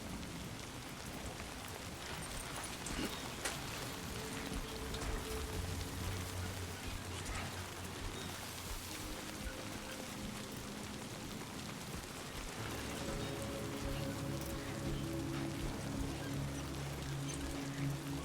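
Steady Timefall rain in the video game Death Stranding patters densely on surfaces around the player, an even close downpour lasting throughout with low rumbling beneath.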